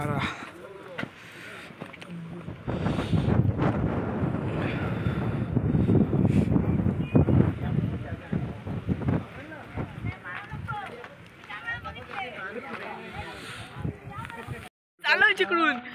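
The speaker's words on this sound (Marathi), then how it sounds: "वारा लय बेकार आहे तो." Strong cold wind gusts across the mic at Shivneri fort in the Sahyadri hills, buffeting roughly and unevenly, with a person talking over it at times.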